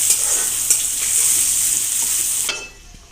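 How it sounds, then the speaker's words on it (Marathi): Coriander leaves and curry leaves frying in hot oil for murmura chivda, a steady loud sizzle with faint stirring that cuts off sharply near the end, no talking. "आता छानपैकी आपली कोथिंबीर सुद्धा तळून झालेली आहे"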